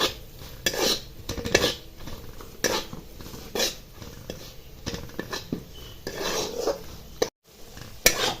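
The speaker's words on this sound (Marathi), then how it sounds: "हे जे पावडरचे मसाले हे डाळी बरोबर छान मिक्स करून घ्यायचे" Powdered spices stirred into dal in a metal pan, with repeated spoon scrapes and clinks against the pan over a faint sizzle, uneven in rhythm and close up.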